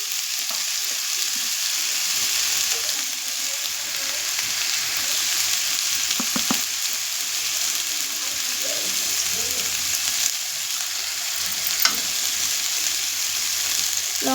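Bitter gourd, potato and drumstick frying in a pan with spices, a continuous bright sizzle with occasional stirring scrapes and faint clinks, close and steady with no voices.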